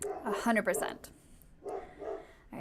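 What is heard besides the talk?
dogs barking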